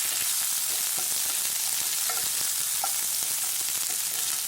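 Ginger garlic paste fries with popped mustard seeds in hot oil as it is stirred, giving a continuous close, bright sizzle with scattered crackles and faint scraping, and no voices.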